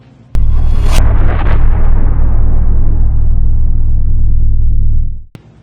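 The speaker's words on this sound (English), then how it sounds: "A Ukrainian Abrams tank locks onto the coordinates, takes aim, and fires a deadly shot" An Abrams tank fires in combat: a sudden heavy boom is followed by a long, rolling low rumble that fills about five seconds before cutting off abruptly.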